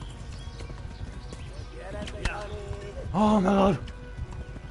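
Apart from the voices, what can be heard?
horse galloping and neighing in video game Kingdom Come Deliverance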